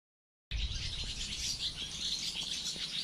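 Many barn swallows chirp and twitter continuously in a busy chorus, fairly close, with a low rumble of wind or handling noise underneath.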